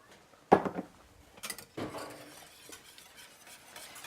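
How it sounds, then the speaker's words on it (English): A spoon stirs milk into a cheese sauce in a pot, giving a sharp clink and then faint scraping and sloshing sounds close by, quiet overall. "And then we're going to add the other cup of milk. Okay. And stir that up there."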